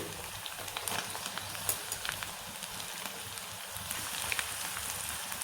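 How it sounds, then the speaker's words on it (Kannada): Dill leaves fry in a pan for chow chow bath, giving a steady, even sizzle with light crackles throughout, fairly quiet and continuous with no voices. "ಸ್ವಲ್ಪ ಸಬ್ಬಸ್ಗಿ ಬಾಡೋ ಮಟ್ಟ ನಾವು ಇದನ್ನು ಫ್ರೈ ಮಾಡ್ಕೋಬೇಕು"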